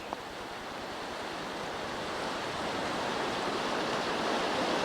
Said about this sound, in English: It's kind of a pretty little stream up here.